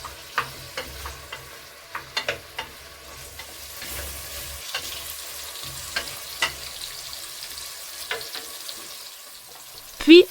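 Chickpeas stirred into meat and onions frying in a pot for Algerian-style meat with onions, giving a steady close sizzle with irregular scraping and clinking stirs throughout and a louder knock at the end.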